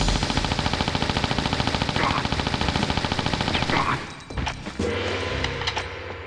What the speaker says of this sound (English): We can easily take out with the Uzis.